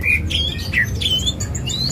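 A tame green songbird in a cage sings close by with a rapid run of sharp chirps, squeaky whistles and short squawks, lively and loud over low room noise.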